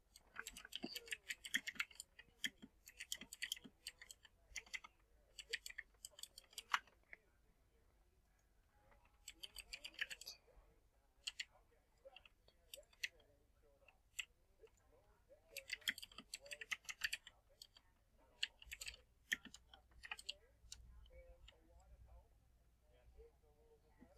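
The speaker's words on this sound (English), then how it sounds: "So I'm just typing in chat that I am recording." Computer keyboard typing in bursts of rapid clicks during a Roblox game session, close and fairly quiet, with pauses between bursts and a person talking intermittently.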